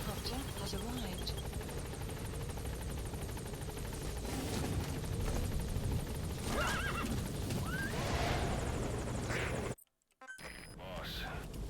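A horse whinnies in the Metal Gear Solid V: The Phantom Pain video game, with hoof clip-clops and the drone of a support helicopter beneath, all under ongoing talk, before a brief dropout near the end.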